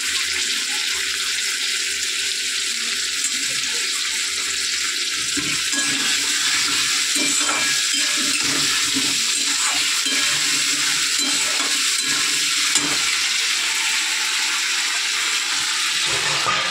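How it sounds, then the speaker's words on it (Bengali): Ground ginger and green chilli paste sizzles in hot oil with a steady, loud hiss, and scraping stirs break through it intermittently, with no talking. "এইবারে দিয়ে দেবো, দেখো বেটে রাখা আদা আর লঙ্কা।"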